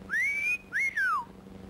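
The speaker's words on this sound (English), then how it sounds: "Some wolf stops to give her the whistle." A two-part wolf whistle: a rising note, a short break, then a rising-falling swoop, sharp and close against quiet background noise.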